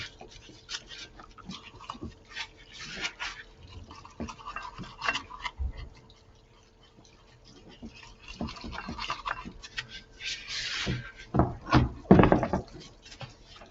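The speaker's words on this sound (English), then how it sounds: "I've got to scrub this thing off and get it all cleaned up" Someone scrubs a greasy brake rotor from a wheel bearing job with a brush in short, irregular bristly strokes, close and moderately loud, with a few knocks and pauses, building to a vigorous burst near the end.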